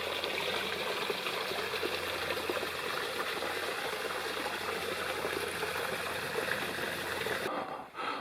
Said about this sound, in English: This is the first of two small creeks that the trail crosses on the way